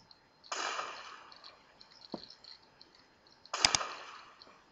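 Video game gunfire: a burst of loud shots near the start, a single sharp report in the middle and another heavy volley near the end, in a fast online shooter match.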